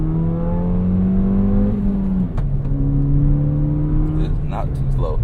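Ford Fiesta ST pulling hard through the gears in traffic, its engine note climbing steadily, dropping at a shift, then rising again, loud and close from inside the cabin with a voice talking over it.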